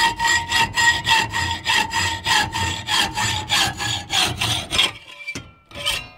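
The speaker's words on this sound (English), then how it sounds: "So I'm just going to take a hacksaw to it really quickly." A hacksaw cuts through a steel bike multi-tool in close, steady back-and-forth strokes, about a dozen rasping passes in even rhythm before stopping, followed by a couple of faint final scrapes.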